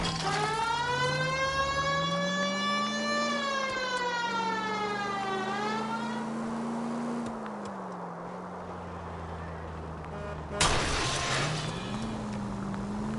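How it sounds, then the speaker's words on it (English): A wailing siren in a video game rises and falls in long sweeps, loud and continuous, with engine rumble beneath and a sudden crash-like burst near the end. "you got a siren for a reason"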